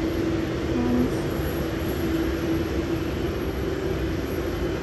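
A Boeing 787-9 airliner taxis to its gate at Sydney Airport, giving a steady, even engine drone with a faint tonal whine throughout and no voices.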